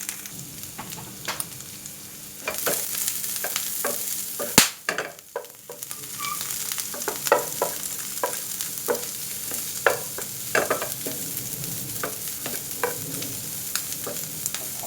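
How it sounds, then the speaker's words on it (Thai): Shallots stir-fried with pork in a hot pan for a shrimp-paste pork dish: a continuous close sizzle punctuated by repeated spatula scrapes and clacks against the pan, with one sharper knock, no voices. "เราค่อยผัดผสมปนกันเข้าไปนะครับ"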